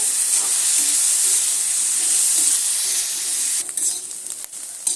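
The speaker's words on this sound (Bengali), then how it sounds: "গাজরটা একইভাবে ওইভাবে সুন্দর করে একটু ভেজে নিতে হবে" Grated carrot and peas fry in a pan as part of a spicy semolina dish, giving a steady loud sizzle and hiss that fades a little and turns uneven near the end, with no talking.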